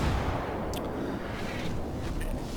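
Naval gunfire in World of Warships from the German battleship Gneisenau: low, continuous rumbling booms of heavy guns. A couple of faint sharp cracks sit over a dense, steady roar. No one speaks.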